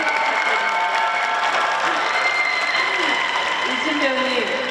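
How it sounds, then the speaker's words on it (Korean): Sustained, loud applause from a festival audience at an outdoor open talk in Busan, a dense even clapping wash with faint cheers, continuing throughout without a break. "네, 큰 박수 부탁드립니다"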